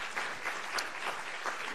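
An audience at a French round-table conference on digital uses and social support applauds. The clapping is dense and continuous, a full steady patter filling the room with no voices over it.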